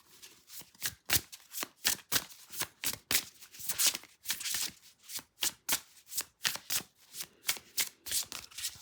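A deck of oracle cards is shuffled by hand in quick, rhythmic riffles and flicks, a crisp repeated papery rustle close to the listener with brief pauses between bursts.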